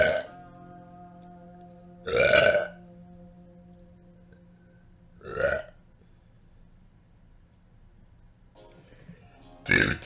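Deep, loud burps from a woman streaming, three separate bursts spaced a few seconds apart with near silence between them.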